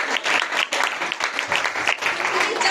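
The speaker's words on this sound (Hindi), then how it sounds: "जोरदार तालियां बजाएं।" A hall audience at a Christmas program breaks into loud, dense applause that fills the whole stretch with steady clapping and no pause.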